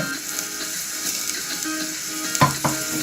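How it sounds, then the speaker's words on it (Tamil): Onions and curry leaves fry in hot oil with a loud, steady sizzle close by, punctuated near the end by a couple of sharp bursts and scrapes as they are stirred, no talking. "எண்ணெய் சிறிது சூடாகினதும் வெங்காயத்தை போடுகின்றோம் கருவேப்பிலை"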